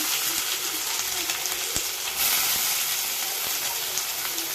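Onion and two crushed garlic cloves sizzle steadily in hot oil in a kadai, a continuous close frying hiss with a brief louder surge midway and faint stirring clicks, no voices.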